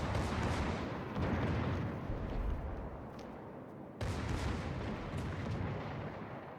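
Naval gunfire from the battleship Congo in World of Warships, a loud continuous low rumble of heavy guns with a sharp renewed burst of salvo fire partway through, no talk.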